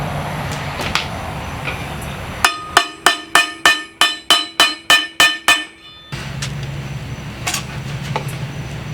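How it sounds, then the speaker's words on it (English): A hammer drives dowel pins flush into an engine block during an engine install, about a dozen sharp metallic taps in a quick even rhythm, loud and close, with workshop background noise before and after. "Put this in like this, and then hammer it until it's flush."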